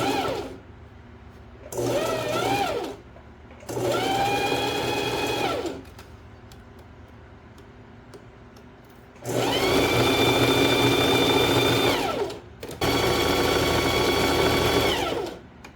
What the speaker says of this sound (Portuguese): você pode passar várias costuras em cima da mesma costura para reforçar bem ela, porque esse aqui vai ser a costura de lateral.